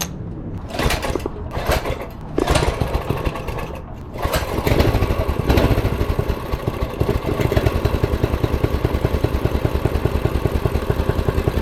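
A restored mini bike engine settles into a steady, close-range idle with a rapid chugging clatter, after a few uneven revs and sputters at the start and no talking.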